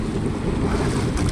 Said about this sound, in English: waves just dashing me